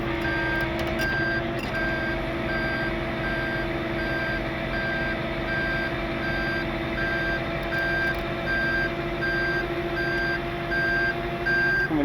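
A 15,000 pound septic truck reverses with its backup alarm beeping in a steady regular rhythm over a loud, constant engine drone, close by.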